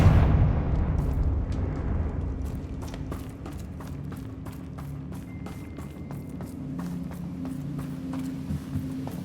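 A Confringo spell explodes in the video game Hogwarts Legacy, a loud burst with a deep rumble that fades over a couple of seconds, followed by scattered light crackles and ticks.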